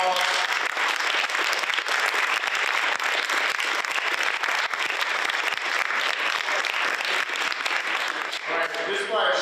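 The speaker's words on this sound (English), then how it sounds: "Let's give the facilitators a round of applause." Loud, sustained applause from a crowd, dense clapping filling several seconds before fading near the end as a voice begins to speak.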